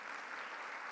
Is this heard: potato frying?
no